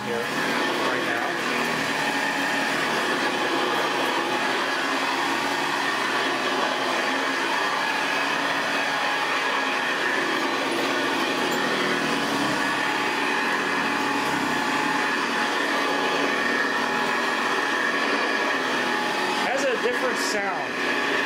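A 1973 Hoover Convertible U4009 upright vacuum cleaner running with a slipping belt, a loud, continuous motor roar and whine that holds steady throughout, with faint voices underneath.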